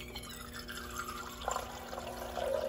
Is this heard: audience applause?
no